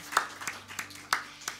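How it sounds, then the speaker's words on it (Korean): A church congregation at an early-morning prayer service claps together in a short burst of about five loose, fairly close claps. "오늘도 예배 가운데 함께 하신 주님께 영광의 박수를 올려드리겠습니다"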